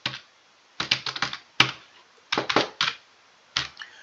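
Someone types a password on a computer keyboard: several close, crisp bursts of keystrokes separated by short pauses, with no talking.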